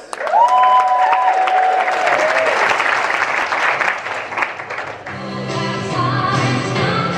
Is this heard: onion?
no